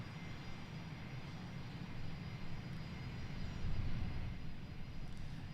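Private jet engine at Boeing Field roaring steadily in the distance, a broad low rumble that swells slightly and holds for several seconds, with no voices.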